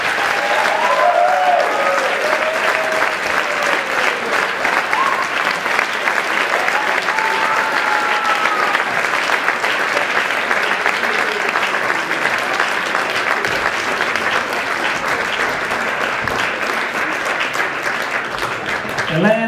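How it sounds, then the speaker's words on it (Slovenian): Sustained, dense audience applause for Olympic athlete Primož Kozmus at a sportsperson-of-the-year award event, a steady roar of many hands lasting the whole stretch with faint voices and cheers mixed in. "prosim vas en velik aplavz"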